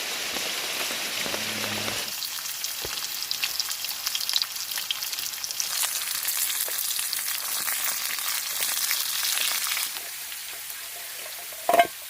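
Jengkol frying in a portable pan outdoors in a forest during heavy rain, a steady crackling sizzle mixed with broadband rain hiss that runs nearly the whole time, with a brief sharper burst near the end.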